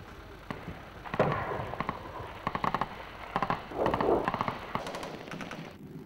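Gunfire during a US Marines night attack in Iraq, rapid bursts of automatic fire and scattered single shots cracking at mid distance over a rumbling background, repeated clusters with short pauses, no talking.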